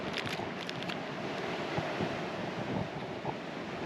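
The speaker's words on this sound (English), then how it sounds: "it's super, super windy." Strong wind roars steadily against the microphone on a Spanish mountain hike, a constant broadband rush with gusty buffeting and no voices.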